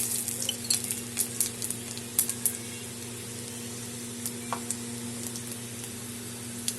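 Dried red chili and panch phoron sizzling in hot oil for a Bengali aloo sabji, a steady frying hiss with scattered small pops and crackles, close and continuous.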